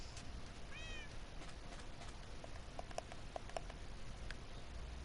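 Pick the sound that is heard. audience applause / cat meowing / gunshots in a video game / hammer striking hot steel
cat meowing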